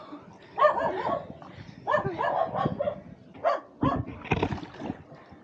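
A dog barks in several short bursts, fairly close, with low voices and background noise around it, on a trail to Bunot Lake.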